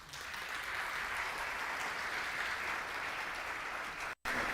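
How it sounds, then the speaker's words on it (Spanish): An audience applauds a speaker in a sustained, even wash of clapping from a large crowd, broken only by a sudden split-second dropout near the end. "Les pido nuevamente un aplauso para don Pablo"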